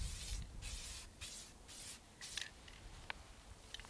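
Spray paint misted onto a rifle while the previous coat is still wet, several short soft hissing bursts of the can separated by brief pauses, faint and close, followed by light clicks and rustles.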